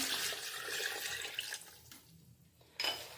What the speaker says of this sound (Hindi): साथ में हम ऐड कर लेंगे 2 गिलास पानी।